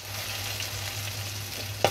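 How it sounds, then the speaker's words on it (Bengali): Bhorta fries in cooking oil in a pan while being stirred, giving a steady close sizzle with a faint scrape near the end. "লবণ দিয়ে নেড়ে চেড়ে ভেজে নেব।"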